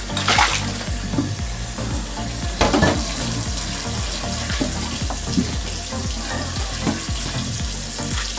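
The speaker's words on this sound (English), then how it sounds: "Once we get the pan rinsed off" Water from a running tap splashes over a cast iron pan being rinsed during restoration, a continuous rushing spray with uneven splashing surges, under background music.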